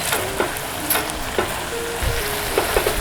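Pork sizzles in a hot pan, with a steady crackling fry and several distinct scrapes and clinks from stirring.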